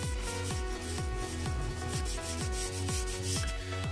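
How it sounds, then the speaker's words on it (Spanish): Sandpaper rubs back and forth over a Jeep Cherokee bumper during prep for painting, a close, steady rhythmic scraping with about seven regular strokes, each roughly half a second apart, no voices. "Ahora lo que hacemos es repasar con lija en los sitios que no llegó el mouse."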